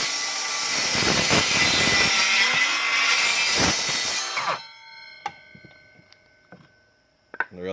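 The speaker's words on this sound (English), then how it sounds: "We're going to cut a simple 2x4 here." A Ridgid Gen 5X brushless 18V cordless 7 1/4 in. miter saw slicing through a 2x4, a loud high whine under load for about four seconds, then the blade spinning down with scattered clicks and a whirring tone.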